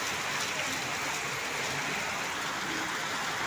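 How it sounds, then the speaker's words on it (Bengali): Heavy rain falls steadily outside a home, a continuous dense hiss of drops with no pauses, filling the whole moment at moderate loudness with no one talking. "এই যে কি বৃষ্টি হচ্ছে, বুঝতে পারছো?"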